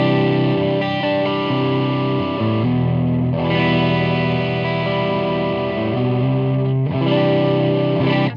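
Electric guitar picked hard through a Mayflower overdrive pedal, thick sustained distorted chords ringing out continuously and loudly, with fresh strums near the start, around three seconds and near seven seconds, no talking.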